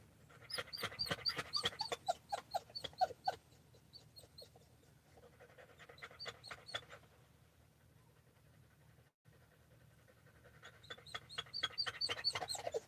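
A puppy whines in thin, high-pitched cries that come in three clustered bursts with quiet gaps between them, fairly soft and close.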